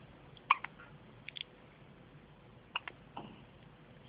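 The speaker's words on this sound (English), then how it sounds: "first hiccups" A newborn baby girl's hiccups in a quiet room at night, a few short soft hics scattered through the stretch, the clearest two around half a second and near the three-quarter mark, faint over low background hiss.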